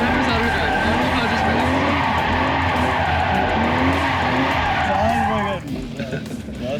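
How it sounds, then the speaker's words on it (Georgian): A car spins a donut while drifting, its tires squealing in a loud, continuous wailing skid over the engine roar. After about five and a half seconds the skid drops off and the noise eases. "როცა მზად იქნები, გას ბოლომდე ჩააჭირო და მანქანა მოცურდება"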